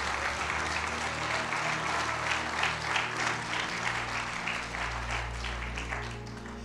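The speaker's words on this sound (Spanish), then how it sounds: "Dele fuerte el aplauso." A congregation at a church service breaks into sustained applause, a dense wash of clapping that holds steady and then starts to fade toward the end, with an organ or keyboard chord held underneath.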